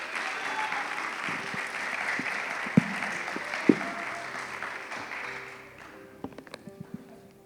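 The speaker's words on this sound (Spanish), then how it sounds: "Den un aplauso al Señor" Church congregation applause during a Sunday sermon, with a broad, even wash of clapping from many hands for about five seconds that fades out, followed by a few isolated taps and faint room noise.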